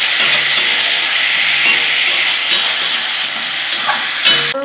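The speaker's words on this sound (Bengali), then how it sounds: "ভালো করে আমি ভেজে নেব।" Pointed gourds (potol) frying in a pan with a little turmeric, giving a loud, continuous sizzling hiss with occasional soft clicks of the utensil, close up and alone.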